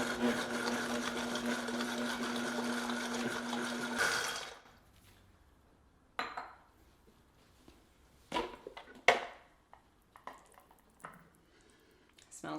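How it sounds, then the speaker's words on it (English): Veggie dip with olive oil, garlic and apple cider vinegar being blended: a loud, steady motor whir runs for about four seconds, then stops, followed by scattered clunks and soft handling noises. "let's add the olive oil and then we'll blend it up and see how it goes"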